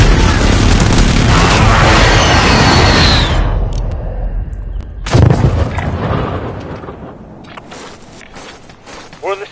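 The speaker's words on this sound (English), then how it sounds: "Enemy precision airstrike." A precision airstrike in Call of Duty: Warzone: a loud, sustained roar of explosions and blasts that fades out, then one sharp boom followed by quieter rumbling and footsteps.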